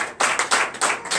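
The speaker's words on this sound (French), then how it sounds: "Donnez l'acclamation à Jésus." A church congregation at a Sunday Easter resurrection service in Comè, Benin, claps in quick rhythmic bursts, about six sharp pulses in just over a second, loud and close with no talk over it.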